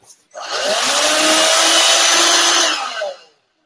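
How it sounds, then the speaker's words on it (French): A vacuum cleaner starts up and runs with a loud, steady whine for a few seconds, then winds down and stops abruptly. "Alors qu'il suffisait juste d'un bon aspirateur."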